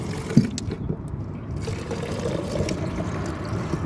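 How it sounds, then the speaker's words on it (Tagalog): Free drinking water pours steadily into a bottle from a street dispenser in Kuwait, a continuous trickling fill with a faint clunk near the start and low outdoor background hum. "Maglagay tayo ng tubig."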